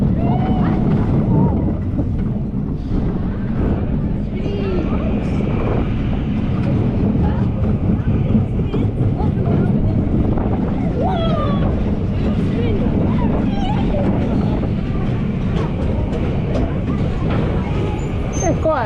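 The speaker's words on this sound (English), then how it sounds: "It's quite a good coaster, this one." Loud, constant rumble and wind roar from a spinning roller coaster, the Spinosaurus at Funland on Hayling Island, heard from on board, with rattling track noise and scattered voices and screams over the ride.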